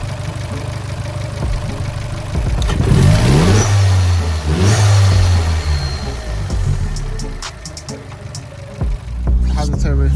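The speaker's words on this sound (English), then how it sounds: "the turbo sounds a lot louder" A turbocharged Vauxhall VXR engine with a new air intake pipe revs up repeatedly nearby, its rising roar dropping back toward idle between pulls, loud and throaty with a whistling edge.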